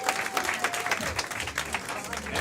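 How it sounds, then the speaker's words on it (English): An audience at a live show claps in a steady patter of applause, moderately loud and continuous, with faint voices mixed in. "Clap for Lyra, everyone"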